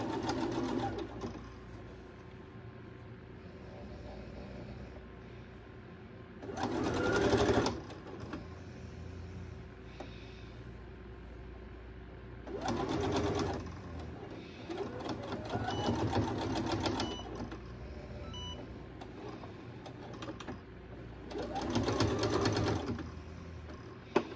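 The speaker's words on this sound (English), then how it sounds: "And you can see as I sew this up." Sewing machine stitching a toddler dress, running in three distinct bursts of rapid mechanical whirring separated by quieter pauses, close and clear with no talk over it.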